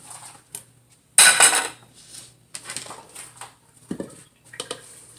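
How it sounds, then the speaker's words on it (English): A bowl is rinsed in a home kitchen while cooking smothered chicken, with a short burst of running water and scattered clinks and clatter of dishes and utensils, fairly quiet and close. "Rinse the bowl out."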